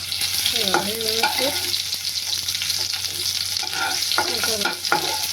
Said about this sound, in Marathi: लसूण टाकले. लसूण व्यवस्थित भाजली की त्याच्यामध्ये कांदा टाका.